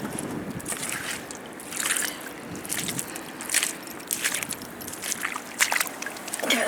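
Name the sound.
rinsing a mudlarking find in Thames river water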